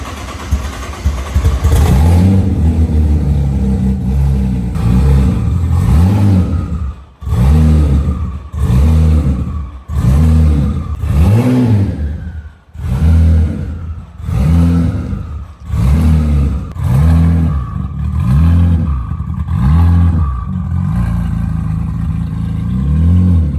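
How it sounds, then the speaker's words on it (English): A 2000-horsepower Nissan GT-R with an all-wheel-drive setup and drag slicks revs hard and loud on a slick winter highway, first in one long run and then in a rapid series of about ten sharp, rhythmic throttle blips. "But it should do massive burnouts now."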